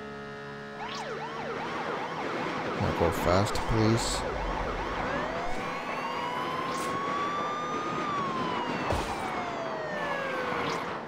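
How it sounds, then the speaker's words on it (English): Wailing sirens rise and fall continuously over an engine drone in the racing game Beach Buggy Racing 2, with a voice speaking briefly partway through. "Cool, sirens."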